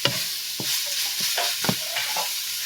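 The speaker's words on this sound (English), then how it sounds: "And then stir well." Food for nachos is stirred in a hot pan, a constant sizzle and fry hiss broken by several sharp utensil scrapes and taps against the pan at uneven intervals.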